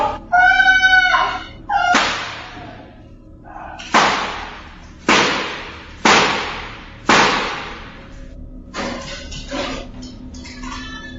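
Five sharp, loud gunshots ring out about a second apart, each cracking hard and then decaying. Short tonal chirps come before them, and some shuffling and faint noise follow.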